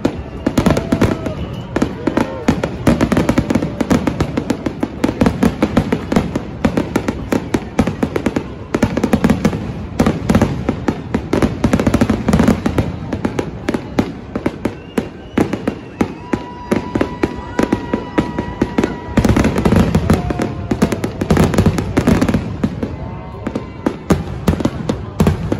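Fireworks and firecrackers burst continuously at midnight on Independence Day, a dense, loud barrage of cracks and booms that barely lets up, heard from a traffic-jammed street.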